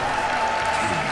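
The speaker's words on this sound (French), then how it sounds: "cher public, applaudissements." Audience at the Toulouse Game Show claps throughout, a dense continuous patter of applause from a close crowd.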